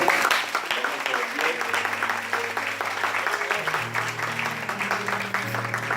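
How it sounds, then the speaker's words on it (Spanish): A church congregation claps loudly together during a Spanish-language sermon, a dense steady burst of applause with music or organ tones sustained underneath. "Den un fuerte aplauso, Señor."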